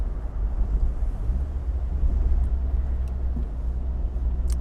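A car drives along a village road toward the marketplace in Hingham, giving a steady low engine and road rumble with some wind buffeting. It stays continuous and moderately loud, with no talk.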